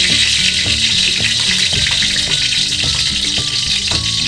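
Garlic sautéing in hot oil in a pan: a steady, loud, close sizzle and crackle running throughout, with faint stirring taps underneath and no talk.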